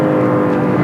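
Steady, loud engine hum from a Lexus LC 500 while driving, a dense harmonic drone holding even for under a second.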